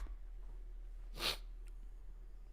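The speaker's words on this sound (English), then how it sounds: "I'm gonna sneeze again." A single short, sharp sneeze bursts out against a low background hum, with faint breathing around it.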